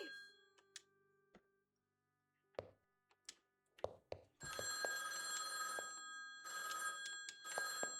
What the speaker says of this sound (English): Oh, why is the phone ringing?